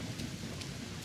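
Rain pours down in the Sengoku Dynasty game, a brief, constant hiss over a low, rumbling undertone, with no talk.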